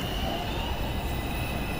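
New York subway train in motion, a loud continuous rumble of wheels on track with a faint high squeal running throughout, heard from inside the car.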